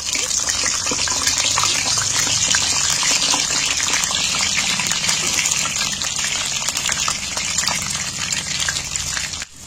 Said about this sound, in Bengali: এবার আমি গরম তেলের মধ্যে আলুগুলো ছেড়ে দিচ্ছি